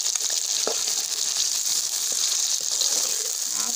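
Meat with a ground paste of garlic, ginger, green coriander and green chillies frying in a pan for tinda gosht, a steady close sizzle with a few soft stirring scrapes and no talk.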